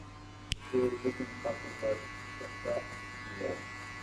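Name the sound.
electric hair clipper cutting a burst fade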